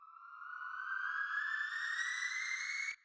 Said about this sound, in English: I added this riser to help transition into the hook.